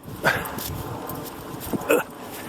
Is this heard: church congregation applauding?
no